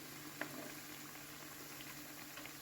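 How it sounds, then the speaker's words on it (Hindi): Potato cutlets fry in hot oil in a pan with a steady, quiet, continuous sizzle and fine bubbling patter, with no voices over it. "ये कोशिश की है कि इनके ऊपर की साइड पे भी गरम गरम ऑयल आए ताकि अच्छे से ऊपर से भी सेट हो जाए"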